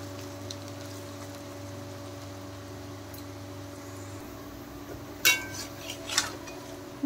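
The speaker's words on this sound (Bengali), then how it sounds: "দেখেন উল্টে পাল্টে পকোড়া আমি ভেজে নিচ্ছি।" Pakoras are turned in a frying pan: two sharp metallic spatula clinks and scrapes stand out near the end over a low, steady background hum.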